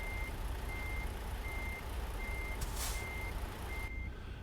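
A truck's reversing alarm in the American Truck Simulator game beeps steadily, about five evenly spaced tones over a constant engine rumble, with a brief hiss of air partway through.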